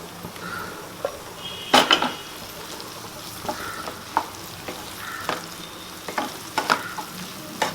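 Tomatoes frying in a pan while garlic kulambu is prepared, with scattered clinks and scrapes of a utensil stirring against the pan and a soft sizzle underneath, close and fairly quiet, no talking.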